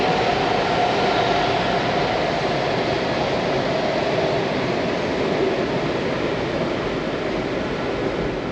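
A Metro Red Line train rolls along with a steady, broadband roar and rumble heard from inside the car, continuous and fairly loud with no voices over it.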